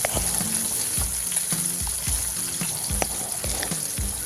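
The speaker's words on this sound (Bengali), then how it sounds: "মাছগুলো এমনভাবে ভাজতে হবে যাতে মাছগুলো পুড়ে না যায়, কিন্তু ভাজাটাও কিন্তু ভালো করে করতে হবে" Small charapona fish frying in oil in a pan, a steady bright crackling sizzle with intermittent low clinks and scrapes of a utensil against the pan, close and continuous with no talking.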